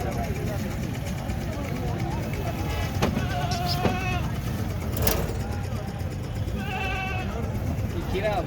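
Rajanpuri goats on a goat farm bleat several times in short, wavering calls over a steady low rumble and background chatter, fairly close.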